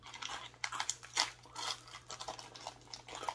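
Crunchy fried lemon squid snack chewed close to the mouth, a steady run of dry crackling crunches and bites with no talking over it.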